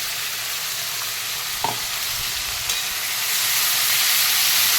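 Spices and aromatics frying in oil for a tomato onion curry, a dense continuous sizzle and hiss close by, with a couple of light utensil taps and the sizzle swelling louder toward the end.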